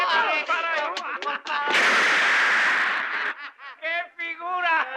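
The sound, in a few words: gunshots fired in a war film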